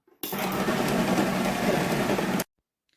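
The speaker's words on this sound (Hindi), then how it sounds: "अब एक दफ़ा फिर मैं जो अपना ग्राइंडर है, ब्लेंडर नहीं ग्राइंडर, चला देती हूँ।" An electric grinder runs, mixing spiced minced meat for kache qeema kababs: one loud, steady whirring motor burst of about two seconds, close up, with sharp on and off edges and no talk.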